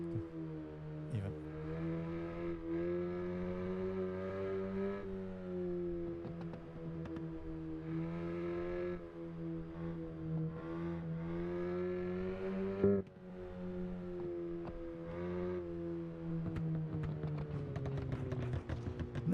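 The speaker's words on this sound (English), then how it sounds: "The sound of the car is also kind of bad." A car engine in the driving game Assetto Corsa drones and revs steadily with a buzzy harmonic tone, rising and dipping over a long stretch with a brief sharp bump partway through.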